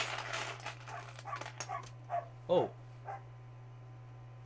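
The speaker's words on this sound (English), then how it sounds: "You can hear my dog barking outside through the window." A dog barking outdoors, heard faintly through a window: a few muffled, spaced barks and yips against a steady indoor hum, with a brief indoor exclamation.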